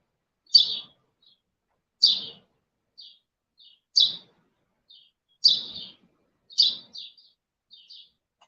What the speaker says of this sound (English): you hear birds out here all the damn time